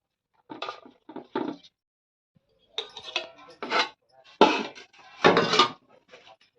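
Knife chopping taro flowers finely on a board, heard as short clustered bursts of sharp, close cuts with brief pauses, alongside faint household clatter.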